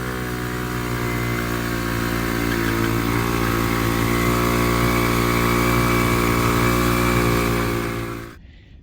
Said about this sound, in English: It's gonna cut and go to that video of me doing the burnout on the moped